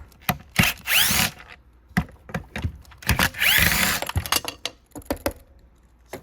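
A power driver removes screws from the fan housing of a Riccar Supralite vacuum cleaner in two whirring bursts, with sharp clicks and handling knocks scattered between them, close and fairly loud.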